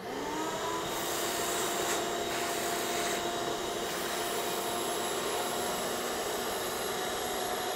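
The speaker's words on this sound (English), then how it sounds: "Now hear the vacuum, you can hear it working harder." A vacuum cleaner sucks up lathe shavings through a nozzle, running as a loud, steady whine with a constant drone and high tonal hum, with faint rubbing and rattling of debris passing through.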